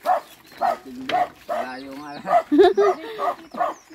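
A dog on a rural farm in Tanza, Cavite barks repeatedly and close by, in short yapping bursts mixed with voices.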